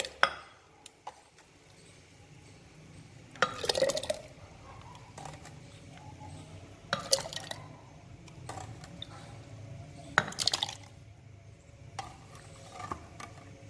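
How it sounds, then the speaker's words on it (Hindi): Chilled cream (malai) poured a little at a time into a jug for churning butter to make desi ghee; quiet, close liquid splashes come in several separate pours with soft handling noises between. "इसको हम थोड़ा थोड़ा जाग में डालते जाएंगे"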